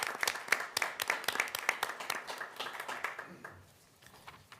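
An audience at a county budget committee meeting claps in steady, lively applause that is close and dense. It tapers off over the last second.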